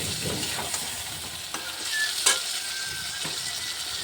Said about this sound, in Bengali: আর দিয়ে এটা আমি ভালো করে কষে নিচ্ছি।